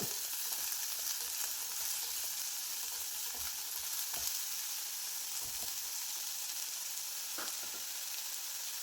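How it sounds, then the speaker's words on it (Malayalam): Crushed ginger and garlic, onion and chopped curry leaves sauté in a hot pan with a steady, bright sizzle. Occasional soft stirring scrapes cut through the sizzle, and no one speaks. "ഇഞ്ചി വെളുത്തുള്ളി ചതച്ചെടുത്തിട്ടുള്ളതാണ്. ഒരു രണ്ട് കറിവേപ്പില ചെറുതായി കട്ട് ചെയ്തിട്ടുള്ളതാണ്. എല്ലാം കൂടി ഇട്ടൊന്ന് വഴറ്റി കൊടുക്കാം"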